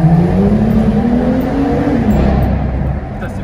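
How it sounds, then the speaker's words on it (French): A BMW M2 engine with its exhaust valve opened revs up loud and close, its tone climbing and then easing off, rough and throaty, with no talking over it. "il faut laisser parler le moteur"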